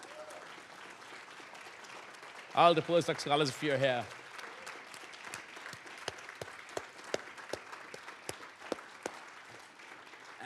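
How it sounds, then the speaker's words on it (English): An audience at an annual celebration applauds postdoc scholars, a dense burst of clapping dying into scattered claps over a steady room murmur while a presenter speaks over it. "could you please stand up and let's applaud you"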